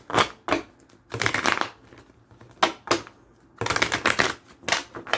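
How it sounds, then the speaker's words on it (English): Crisp bursts of tarot cards being shuffled, several riffling passes in quick succession with short pauses between them, close and fairly loud. "Let me shuffle real quick."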